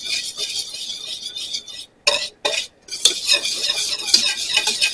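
Dry spices, garlic powder among them, are stirred in a bowl for squash fritters, a close, busy scraping of utensil against dish with two short pauses and a few bright clinks.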